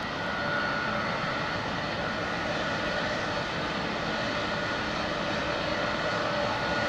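An Air Canada Boeing 777-200 with Pratt & Whitney engines rumbles at Heathrow, its jet noise a fairly faint, even, distant roar that holds without change for the whole stretch.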